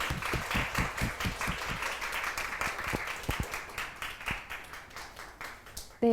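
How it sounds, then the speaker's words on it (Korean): Scattered applause from an audience at a talk concert, light and uneven, with a few louder claps standing out, fading toward the end before a brief voice. "그럼 모두 오형균 교수님을 큰 박수로 맞아주시기 바랍니다."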